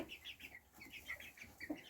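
Young chickens, a mix of hens and cockerels, give a run of soft, rapid clucks and peeps, faint and steady, with short repeated calls and no talking.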